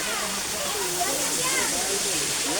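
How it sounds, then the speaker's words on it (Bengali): A waterfall at Himchhari, a broad steady rushing hiss of falling water that fills the whole clip, with voices and wavering tones mixed faintly into the wash. "দেখুন ঝর্ণা"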